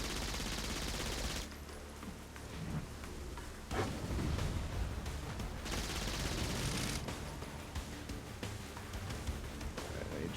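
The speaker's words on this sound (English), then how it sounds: "Okay, so we gotta shoot him, take his shield down." Sustained gunfire in Saints Row IV, a dense rumbling barrage of shots with sharp bursts around two and seven seconds, loud and continuous throughout with no talk.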